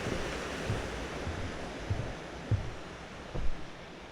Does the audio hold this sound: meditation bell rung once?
no